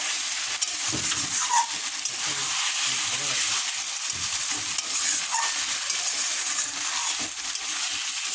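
Homemade rice biryani is stirred in a pan, with a spoon scraping and turning the rice over a steady background sizzle that stays fairly loud throughout.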